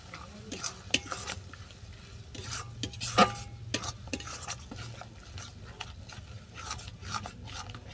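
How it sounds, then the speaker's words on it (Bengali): A soybean and cauliflower stem bharta is stir-fried in a pan, with repeated scraping strokes and clinks of a spatula over a soft, low sizzle, and one sharper metallic knock near the middle. "এটাকে ভালো করে কষিয়ে নেব।"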